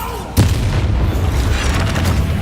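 A Bombarda spell blasts in Hogwarts Legacy, one sudden heavy boom in a spell fight, then a dense rumbling roar that stays loud to the end.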